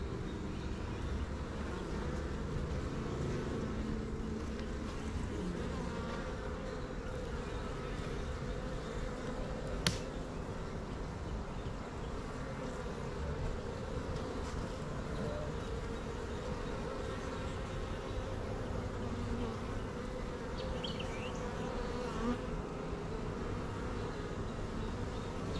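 Honey bees buzz steadily around an open brood hive while a second deep box is being added, a dense continuous drone heard close by with no talking.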